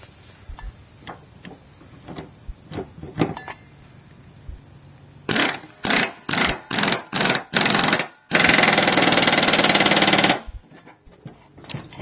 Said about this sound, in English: I'm going to use an impact gun.